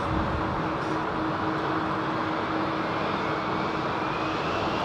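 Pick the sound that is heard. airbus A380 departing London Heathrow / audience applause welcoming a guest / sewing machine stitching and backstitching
airbus A380 departing London Heathrow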